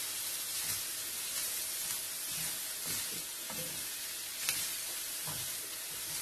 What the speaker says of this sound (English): Got to coat the rice with the knob of butter.